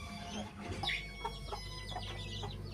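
Chickens kept in a cage cluck and call repeatedly close by, over a steady low background hum.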